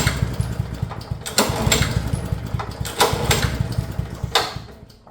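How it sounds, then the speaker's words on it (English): A Honda HRU196 lawn mower engine, freshly filled with clean oil and with the spark plug lead removed, is cranked repeatedly by its pull cord. Loud, close whirring surges rise and fall without the engine catching. "what we want to do is just give a few pulls while that clean oil is in there"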